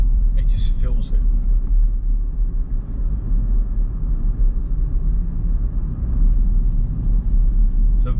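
A Land Rover Defender cruises along a smooth road, its engine and tyres producing a steady low rumble that fills the cabin, with the driver talking over it.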